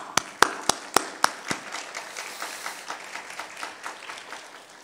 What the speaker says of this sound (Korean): 오늘 우리 두 선교사님 맨 뒤에서 함께 예배드리고 계신데 우리 박수로 좀 환영했으면 좋겠습니다.